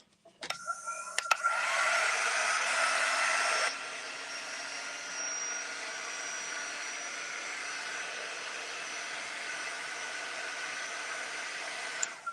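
A hair dryer blows on paper craft pieces for a junk journal, a steady loud whoosh starting abruptly, softening slightly after a few seconds and running on to the end with no talk.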